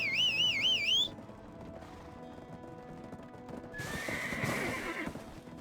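A video game horse shod with horseshoes whinnies loudly for about a second amid soft background music, then its hooves clip-clop in a steady rhythm that grows louder near the end.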